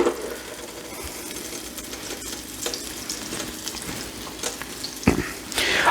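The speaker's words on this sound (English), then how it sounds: "I'm just going to get that hot so that it gives it that nice sizzle for the next one we put in." Cubed steak sizzles steadily as it browns in a hot frying pan, a close, continuous crackle with occasional stirring clatter.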